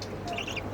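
A pet budgerigar gives a few soft, brief chirps indoors, faint and light over quiet background hum.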